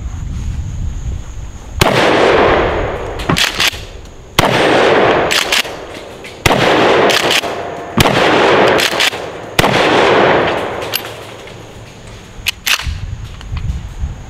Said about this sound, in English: What are we going to shoot? Let's just shoot this torsos right there.